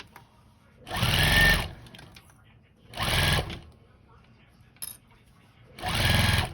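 A sewing machine back stitches over the darts of a fabric bowl cozy in three short, loud bursts. Quiet gaps separate the bursts, and a brief click falls between the second and third.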